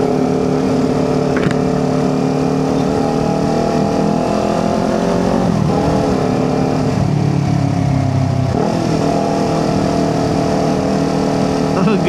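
A 2023 Kawasaki Ninja 400 motorcycle with a new aftermarket exhaust, loud and close, idling with a throaty drone and blipped through several quick revs that rise and fall, while a person talks briefly in the background.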